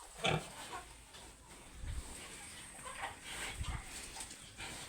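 Pigs on a farm grunting and oinking softly, a few low snorts and squeals scattered over a faint, steady background.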